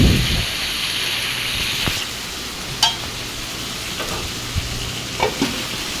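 Food sizzles and fries steadily in a pan while being stirred during home cooking on a rainy day, a constant close hiss broken by a few brief scraping stir sounds.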